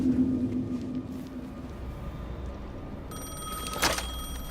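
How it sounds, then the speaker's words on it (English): A telephone rings in the video game Alan Wake, a bright electronic tone with a sharp burst near the end, over a low ambient rumble with no voices. "Phone again."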